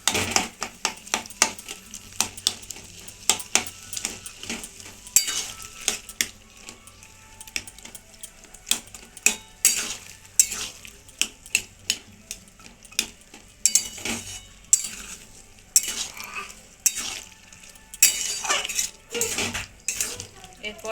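Ghugni being stirred in a metal kadai, giving repeated scraping and clinking strokes of a spoon against the pan in an irregular rhythm, close and fairly faint, with no talking.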